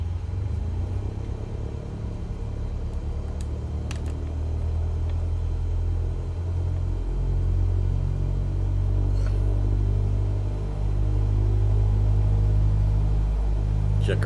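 A Cessna 172S with G1000 avionics in a flight simulator holds a steady engine run-up, a loud, continuous low propeller drone and rumble that thickens and rises slightly in the second half, with no talking.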